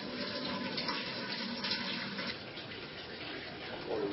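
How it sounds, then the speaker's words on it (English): Water draining out of a home brewing mash tank on a first brew day, a steady broadband rushing flow that runs without a break, fairly close and even in level, with no talking. "So I'm going to let the water out of that"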